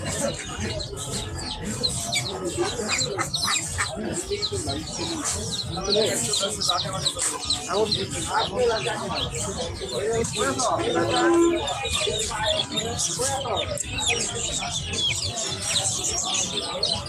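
A busy bird market din in Hemayetpur, Bangladesh, with ducks, quail and other fowl clucking and chirping, and many people talking and bargaining throughout.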